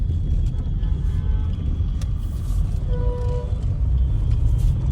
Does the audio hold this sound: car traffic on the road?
yes